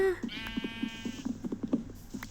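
A Minecraft sheep, in a game with a fruit-and-vegetable mod, lets out one clear, drawn-out bleat. A string of soft, regular taps and light game noise follows.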